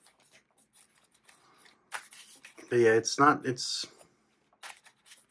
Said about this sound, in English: here, let's go shuffle once more.